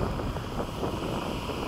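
Steady wind blowing across an open airfield on a warm, sunny day, a dense continuous rumble and rush with no voices.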